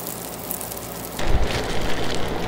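Beef browning in a stew pot, a steady crackling sizzle that grows louder and fuller partway through, close and alone.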